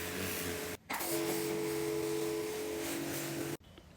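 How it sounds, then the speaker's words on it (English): Jet washer spraying pool walls during pool cleaning, a steady hissing spray with a whining pump tone, cut off briefly near the start and stopping before the end. "That helped loosen it off so I can just jet wash it."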